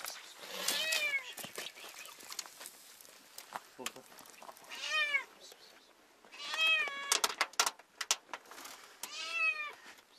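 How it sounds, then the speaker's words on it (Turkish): Several drawn-out meows from a cat trapped in a well, loud and close, arriving in clusters with short pauses between them, over faint background noise. "burada kedi bağırdığını duydum yolda geçiyorken"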